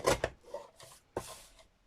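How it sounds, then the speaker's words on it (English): A few quick close-up cuts into stiff card, sharp short strokes in an uneven rhythm, with no voices. "I'm just chopping a bit of card at the side."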